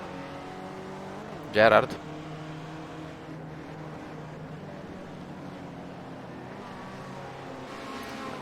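Race cars lap Sonoma in a racing video game, engines droning steadily with a loud burst of noise early on, while a commentator talks throughout.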